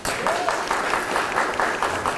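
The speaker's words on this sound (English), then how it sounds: "Please give rounds of applause for Miss Mary Lene Lennon" Guests at a JROTC military ball applaud the instructors with steady, fairly loud clapping from a crowd that holds an even level throughout.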